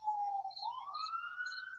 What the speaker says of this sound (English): you got to love the sounds of the music of the city. Love them sirens.